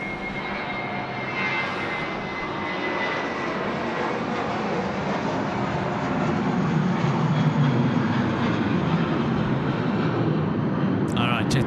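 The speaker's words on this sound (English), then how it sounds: "Jetstar A320 getting underway there." A Jetstar Airbus A320 airliner gets underway at Sydney Airport at night, its engines producing a loud steady roar that builds slightly over the span, with a voice talking faintly beneath.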